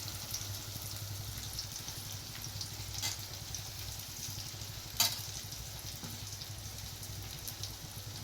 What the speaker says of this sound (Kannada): ಈಗೇನಿದೆ ಫ್ರೈ ಆತೆ